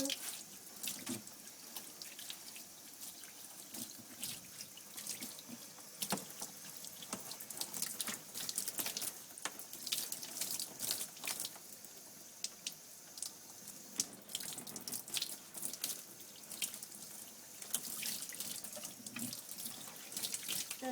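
A water tap runs steadily into a sink or tub while a dog is bathed, the stream splashing and spattering unevenly as it hits fur and basin, quiet and close throughout.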